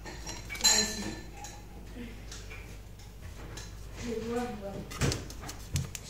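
Glasses, cutlery and dishes clink faintly in a home kitchen as a glass is taken from the dishes: a few sharp chinks and light taps scattered between quiet stretches, with soft voices and household noise around them.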